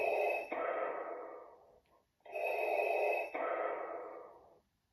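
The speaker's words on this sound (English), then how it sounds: "Darth Vader's breathing" Darth Vader's mechanical breathing from a Black Sith Wayfinder toy: two full cycles, each a hissing inhale followed by a longer exhale, with a short gap between them, played alone at close range.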